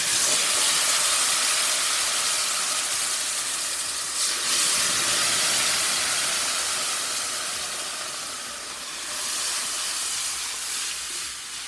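Shrimp stock poured into a hot roux with onion, celery and bell pepper for a Creole seafood gumbo bursts into a loud, broad hissing sizzle that swells and eases in waves, close up and without talk.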